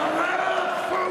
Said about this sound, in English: And the crowd starts singing his name.